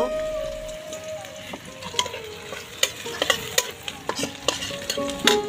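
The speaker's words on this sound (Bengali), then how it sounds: "কিছুক্ষণ নাড়াচাড়া করার পরে পেঁয়াজগুলো যখন কালার চলে আসবে" Onions fry in a pan while a spoon stirs them, giving repeated sharp metallic scrapes and clinks over a soft sizzle, close and without talk.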